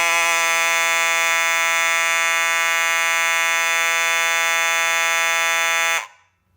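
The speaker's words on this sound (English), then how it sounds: "this demonstration of this vintage Simplex fire alarm" A vintage Simplex fire alarm horn blares a loud, harsh, buzzing tone continuously for several seconds, then cuts off abruptly.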